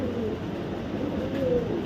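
Red checker racing pigeons coo softly in a loft, a low continuous murmur of several birds close by, with no talk.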